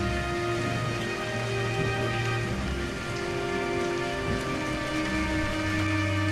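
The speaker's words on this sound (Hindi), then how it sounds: "ये तो भयंकर बारिश है।" Heavy cartoon rainstorm: a steady, dense roar of rain pounding on surfaces, loud and unbroken throughout with no voices.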